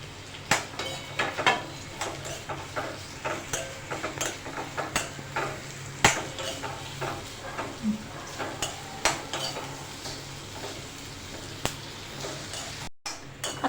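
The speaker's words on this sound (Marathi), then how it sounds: "आता आपण मसाला भाजून घेणार आहोत। त्यामध्ये लसूण घालणार आहोत।" Masala with garlic roasts in a pan, a constant sizzle under rhythmic scraping strokes of a spoon against the metal, roughly one every half second, close by with sharp clinks and no talking.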